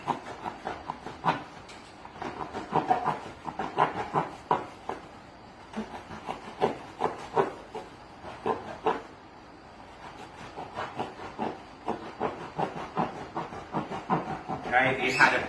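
A steak knife saws through a loaf of bread in repeated back-and-forth strokes, each stroke a short rasping scrape. The strokes come close and fairly loud in an uneven rhythm.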